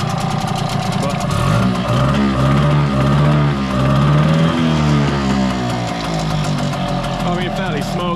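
A Hangkai 6hp two-stroke outboard motor runs in water with a steady, buzzy drone and slight shifts in pitch. Someone talks loudly over it throughout.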